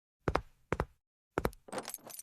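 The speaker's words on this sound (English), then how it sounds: "Bring the keys." Keys jangle in a few separate quick shakes, each a bright metallic rattle of a few strikes, with short silent gaps between them and a longer, denser burst at the end.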